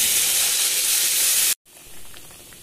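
A burst of loud, bright hissing sizzle as a spice mixture hits hot oil while tempering masoor dal, cut off abruptly after about a second and a half, then a quieter, softer frying sizzle. No speech.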